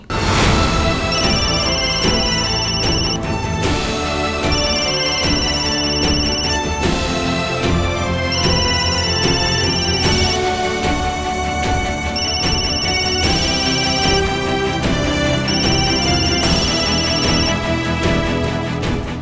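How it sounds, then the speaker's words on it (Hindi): An electronic phone ringtone plays over and over, a repeating melodic trill that fills the whole stretch steadily and loudly with no talking. "फोन टा काटी दे।"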